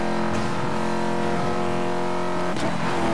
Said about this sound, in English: keeping the car full throttle to the max all the way